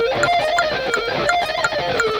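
Fast electric guitar picking runs against a metronome, the notes smeared and uneven as the picking and fretting hands fall out of sync, with regular metronome clicks marking the beat throughout.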